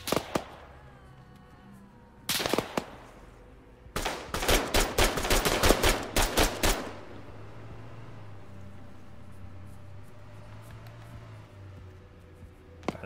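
Gunfire in a running battle during an evacuation in Arma 3: a short burst, then a loud rapid string of close shots, before a low rumbling hum carries on with no talk.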